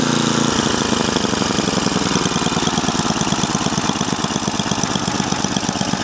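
A Husqvarna snowblower engine runs steadily and loud with its augers engaged, a continuous rhythmic mechanical drone with fast pulsing throughout and no talking.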